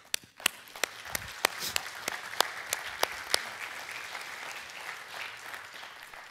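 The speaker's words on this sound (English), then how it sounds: "So let's clap." An audience in a church claps together, beginning with several loud, separate claps that merge into sustained, evenly spread applause filling the room.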